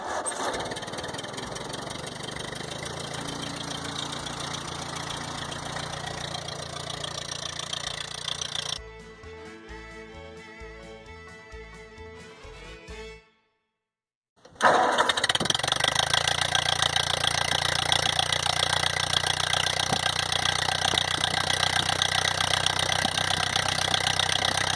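A 1952 Ford 8N farm tractor engine runs with a steady, rough drone, briefly drops out to silence, then returns louder and fuller on a cold start.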